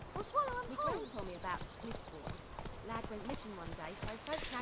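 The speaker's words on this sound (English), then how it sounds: "Horse dismounting." Horse hooves clip-clopping during a dismount in the video game The Witcher 3, heard under continuous talking throughout with scattered game sounds.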